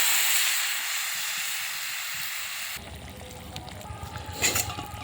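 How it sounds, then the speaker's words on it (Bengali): Water poured into a hot pan of green banana and potato cooked with salt, turmeric and chili hisses loudly and steams, the sharp sizzle fading after a few seconds into softer bubbling and clinking. "এবারে জল দিয়ে দেব।"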